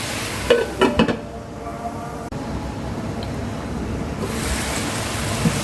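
Cucumber curry with ground coconut cooks in a pan, giving a soft continuous sizzle with a few clattering spatula knocks near the start, then a steady hiss.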